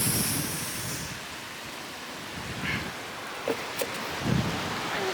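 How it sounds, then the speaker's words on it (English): Sea waves breaking and washing up on a beach, a continuous broad surf roar with a couple of short splashes and thumps near the end, no talking. "Absolutely soaking because the waves are coming in"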